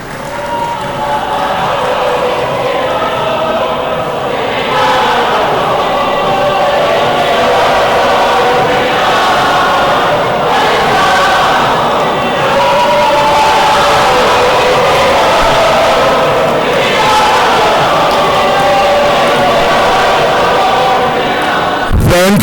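In a hall at Limpopo's 2023 State of the Province Address, the audience welcomes the First Lady with loud, sustained crowd noise: continuous applause mixed with cheering and raised voices filling the whole stretch.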